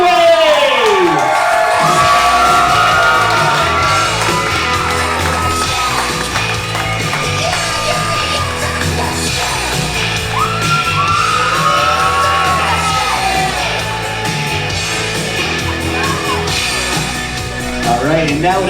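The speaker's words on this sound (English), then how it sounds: "let's have a giant round of applause for the reason you are here today, the new Mr. and Mrs. Greenway!" Wedding guests cheer, whoop and shout for newlyweds Rachel and Ben in a loud, sustained crowd roar, with voices mixed in throughout.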